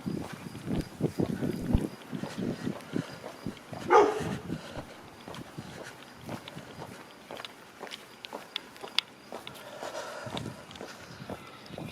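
A pit bull barks somewhere along a Birch Cliff, Toronto street, a few sharp barks early on, followed by footsteps from someone walking on the street, with the dog fading into the background.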